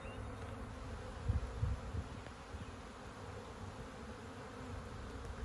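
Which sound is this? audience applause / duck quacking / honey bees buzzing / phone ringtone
honey bees buzzing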